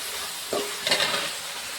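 Salted tomatoes softening as they fry in a pan, a quiet steady sizzle with a couple of brief stirring scrapes near the middle, close by and without any voices.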